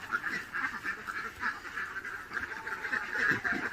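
Ducks at a farm pond quack steadily in a continuous, moderately loud chorus throughout, with no talking.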